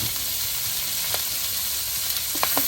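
Onion and tomato fry in a pan with a steady close sizzle and hiss, broken by a few sharp spatters and crackles toward the end.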